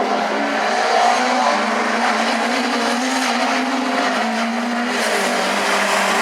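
A rallycross race car slides and recovers at high revs, a loud, continuous engine roar with shifting pitch and a hint of tire scrub running through the whole stretch.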